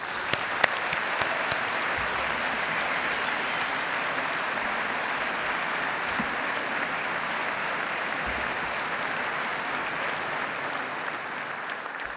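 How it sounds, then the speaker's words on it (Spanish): Sustained applause from an audience at an awards gala, steady dense clapping that fills the room at an even level for about twelve seconds, with no voices standing out. "un fuerte aplauso para ellos."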